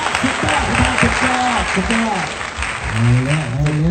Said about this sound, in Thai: ขอเสียงปรบมือให้ยอดสำหรับเรา